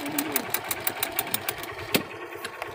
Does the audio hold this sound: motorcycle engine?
yes